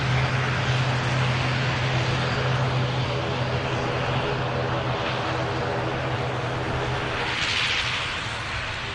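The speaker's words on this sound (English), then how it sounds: "Beautiful KLM. That's a touchdown." A KLM airliner touching down at Manchester Airport, a loud steady roar of jet engines with a low hum that holds throughout, swelling briefly near the end before easing off as the aircraft settles on the runway.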